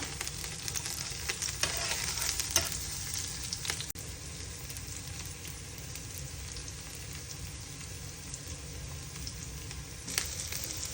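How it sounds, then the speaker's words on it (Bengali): Bay leaves hiss and sizzle steadily in hot oil in a pan, with a few scrapes and knocks from stirring, all close and continuous with no talking. "এ পর্যায়ে আমি একটু ঘুরতে থাকবো দিয়ে দিলাম কয়েকটা তেজপাতা"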